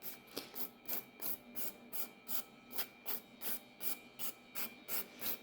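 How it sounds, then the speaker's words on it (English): A 180 grit nail file lightly buffing a gel nail, soft rhythmic rasping strokes close up, about a dozen even back-and-forth passes at a steady pace with no talking. "I'm barely putting any pressure with my nail file. I'm just looking to buff it and make it nice and smooth"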